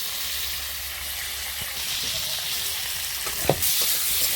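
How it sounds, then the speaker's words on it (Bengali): Potatoes frying in oil in a wok: a continuous, close sizzle with intermittent stirring scrapes and one sharper clack of the utensil near the end, no voices. "এবার আমি আলুটা ভেজে নিচ্ছি।"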